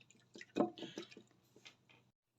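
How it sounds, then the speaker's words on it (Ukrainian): Minced meat cutlet mixture with black pepper, salt and spices being mixed by hand, a few soft wet squishing and slapping sounds close up, then quiet, with no talking. "І знову добре все перемішую."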